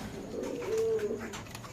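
Pigeons at a pigeon farm give a soft, rolling coo that swells in the middle and fades, close by over a low background murmur.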